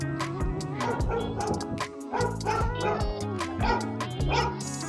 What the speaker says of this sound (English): People have a dog running so.